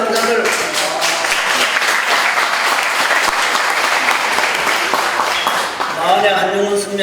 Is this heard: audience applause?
yes